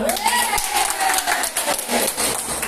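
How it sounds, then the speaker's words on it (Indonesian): Children in a classroom clap and shout together, a loud, busy mix of claps and cheering voices with a rising whistle-like tone near the start. "Iya, tas tepuk tangan."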